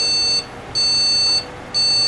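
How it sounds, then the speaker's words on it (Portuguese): A Gigabyte GA-945GCM-S2C motherboard with bad memory gives repeated POST error beeps, a high steady tone sounding in even pulses about once a second, close and clear with no talk. "Veja que são vários bips repetidos e não tem imagem"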